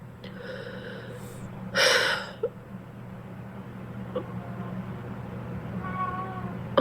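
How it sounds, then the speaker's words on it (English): A cat meows in a room during a livestream, one clear mid-clip call standing out against a steady low background hum and faint indoor noise, with no talking over it. "just meowed and it distracted me"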